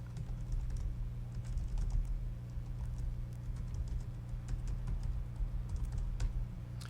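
Steady keystrokes on a computer keyboard as a question is typed, a continuous patter of clicks over a low background hum, no talking.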